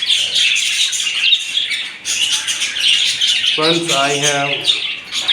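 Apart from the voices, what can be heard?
budgies chirping in cage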